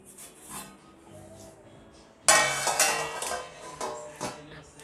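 A lid set over a cake mould inside a hot kadai during stovetop eggless rava cake baking, a sudden loud metallic clatter followed by a few lighter rattling knocks, close and alone after a quiet stretch.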